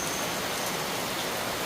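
Heavy rain pours steadily, a dense continuous hiss of falling water with no breaks and no voices.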